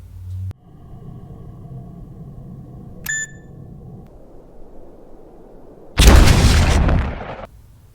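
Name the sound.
world exploding at the end of the movie Kaboom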